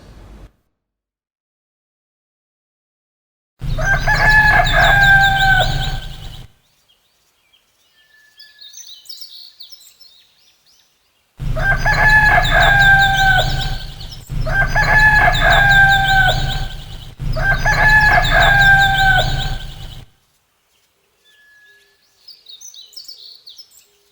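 A rooster crows as a story sound effect, one loud cock-a-doodle-doo followed after a pause by three more in quick succession, with faint softer clucks between, close and clear with no talking.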